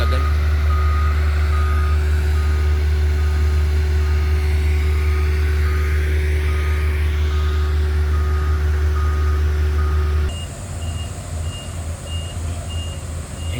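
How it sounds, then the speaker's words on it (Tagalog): A delivery truck reversing at a road improvement site, its backup alarm beeping in a steady repeated pattern over a loud low engine idle, shifting to a rougher engine note and a higher beep tone toward the end. "Ito yung isang truck, na dumating yung isang truck,"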